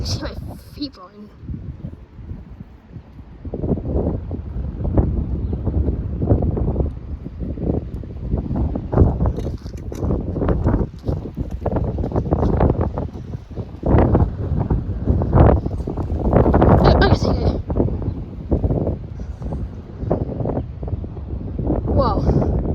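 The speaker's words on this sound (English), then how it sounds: "it's getting kind of windy" Strong outdoor wind buffets the microphone in loud, continuous gusts, with a person talking at times under the roar.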